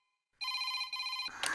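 A telephone rings with a bright, steady electronic tone for about a second after a moment of silence, briefly interrupted once, followed by a short noisy clatter.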